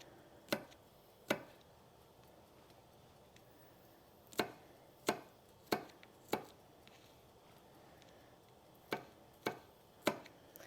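Knife chopping vegetables on a cutting board for a turkey sausage meal, sharp isolated thwacks in irregular clusters with pauses between, close and crisp against a quiet room.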